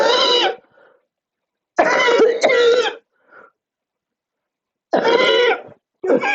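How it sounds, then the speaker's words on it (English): Several bursts of strained, harsh coughing separated by short pauses, close and fairly loud, with faint wheezy breaths between them. "It just keeps getting stuck every time I try and cough"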